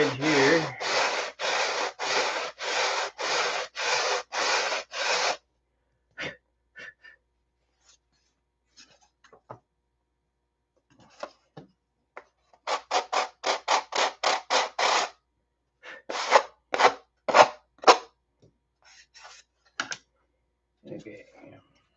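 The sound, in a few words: sanding straight edge of 7-ply aircraft plywood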